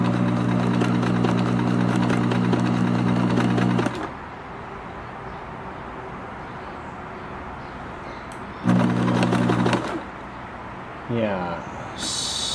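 A Kenmore 1813 sewing machine running a stretch stitch: a loud, steady mechanical whir for about four seconds, then a quiet pause, another short burst of stitching, and a few lighter clicks toward the end.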